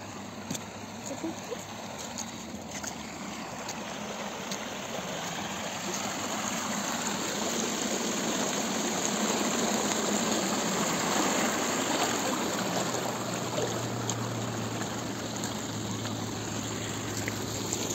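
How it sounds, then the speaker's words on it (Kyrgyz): Floodwater from melting snow spills over and runs downhill in a steady, rushing broadband wash that swells slightly midway and continues without pause, fairly close. "суу ашып бул жерден кантип түшүп атат экен көрөлүчү"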